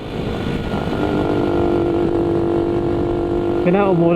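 A Honda Cub C65 motorcycle being ridden, its small engine droning steadily up close, with the pitch rising and wavering as it accelerates near the end; someone talks over it.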